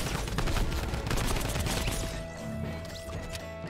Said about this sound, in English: Switch to this Midas gun. It's a Tommy gun kind of thing.